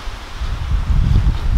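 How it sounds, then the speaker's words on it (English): Strong wind buffets outdoors with a constant low, rumbling roar and rustle that swells slightly toward the end, with no voices. "It's windy, like real windy again."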